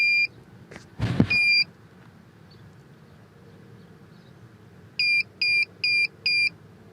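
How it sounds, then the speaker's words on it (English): Beeps from a Hyundai Sonata remote start module as it is connected: a burst of four short, clear, evenly spaced electronic beeps, with an earlier brief tone near a louder handling clatter. "As soon as I connect it, you're gonna hear a beep."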